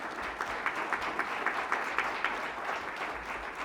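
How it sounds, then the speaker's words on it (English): Faint applause from a crowd, a steady patter of many hands clapping with a few sharper individual claps standing out, no talking. "So please, a round of applause."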